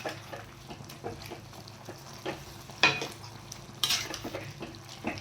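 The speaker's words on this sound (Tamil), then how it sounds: "இப்போது இந்த வெந்த வேக வச்ச குடலை எடுத்து நம்ம ரெடி பண்ணி வச்சுருக்க மசாலாவோட சேர்த்துக்குவோம் சேர்த்து இப்போ நல்லா கிளறி விட்டுருங்க" Boiled goat intestine being stirred into masala in a pan, with soft scraping and a couple of sharper metal clinks over a faint sizzle, fairly quiet and without speech.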